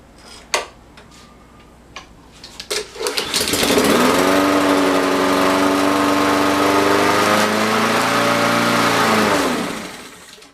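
A Honda GCV160 small engine with a freed-up stuck choke valve runs close and loud. It comes after a few clicks and pulls, sputters into a steady buzzing idle for several seconds, then shuts off and winds down.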